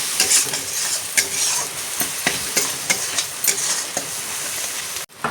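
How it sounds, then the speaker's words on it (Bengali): Spice paste with salt and turmeric sizzling in oil in a pan for a fish curry, with a continuous fry hiss and repeated scraping strokes of the spatula at a regular pace, close and clear. "এখন আমি দিয়ে দেব লবণ আর হলুদটা, দিয়ে আর একটু কষাতে থাকবো"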